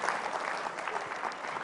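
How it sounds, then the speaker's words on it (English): Congregation applause fills a church during a sermon on leadership and character, a dense, steady clatter of many hands from a crowd that holds evenly throughout. "Clap, man."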